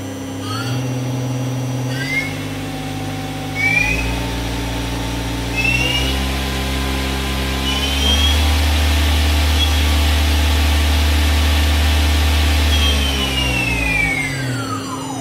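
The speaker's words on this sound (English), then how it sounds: "The spindle speed will increase by 500 RPM increments up to the max" A 2003 Daewoo Puma 2000M CNC lathe spindle steps up in speed in 500 RPM increments to 5,000 RPM, a loud steady machine hum whose pitch climbs stage by stage with rising whine tones.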